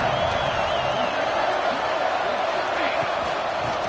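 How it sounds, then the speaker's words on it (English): A football stadium crowd roars steadily to cheer on the home defense during a red zone stand in a college game, a dense, continuous wall of noise with scattered whistles and shouts. "here comes the noise. This crowd is trying to inspire this defense to make a big red zone stop."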